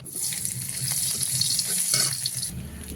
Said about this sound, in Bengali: কড়াইতে আবারও তেল দিয়ে দিয়েছি